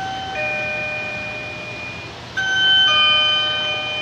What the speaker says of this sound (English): my husband got me a doorbell that connects outside the greenhouse, so that people can ring it